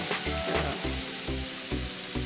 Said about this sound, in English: So I'm going to add these onions in there and fry them